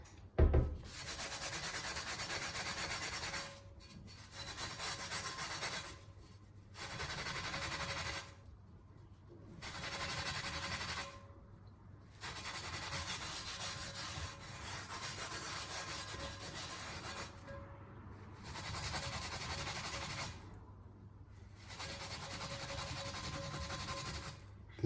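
A new cast iron skillet is scrubbed in repeated rhythmic bursts of harsh, close rubbing, each lasting a couple of seconds with short pauses between.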